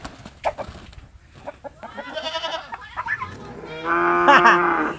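Cattle lowing close by on a farm, several long drawn-out moos rising and overlapping, the last one loud and sustained, with scattered knocks and rustling in between.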